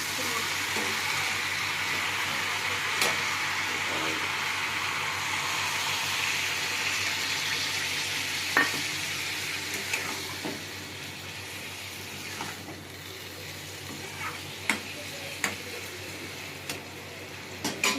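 Fish head and Malabar spinach sizzling in a pan for a Bengali chorchori, a steady hissing fry held throughout with a few faint clinks and scrapes from stirring.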